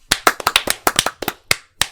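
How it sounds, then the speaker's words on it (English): About a dozen sharp hand claps, close and dry, in a slightly uneven rhythm over two seconds with brief silences between them and nothing else heard. "Claps."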